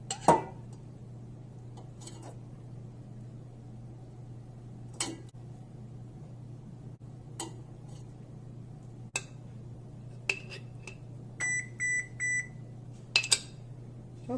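An oven control panel gives a series of short electronic beeps while it is set to 400 degrees, with a few quick bursts followed by a run of steady tones. Faint kitchen clatter and a low hum sit underneath.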